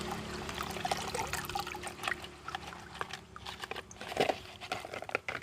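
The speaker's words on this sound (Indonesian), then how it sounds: "Seperti ini kita tiriskan, buang airnya." Soaked potting base materials for an aglaonema pot being drained of water: a faint, uneven trickle and dribble with soft wet shuffling and occasional small splashes, close by and fairly quiet.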